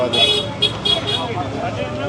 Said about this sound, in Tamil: இப்படி டிராஃபிக் ஆகிட்டு இருக்குல்ல.